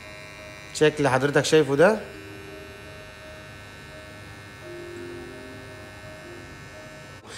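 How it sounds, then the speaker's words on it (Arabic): A new electric hair clipper for personal use runs with a faint, steady buzzing hum that continues alone after a brief moment of speech at the start. "ودي الماكينة الجديدة، ده صوتها"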